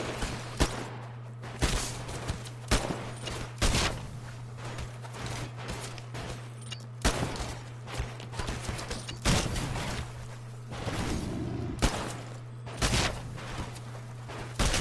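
Gunfire during a live fire exercise in Titanfall, with sharp, loud shots in irregular bursts over a constant low mechanical hum and scattered heavier impacts, close and without talking.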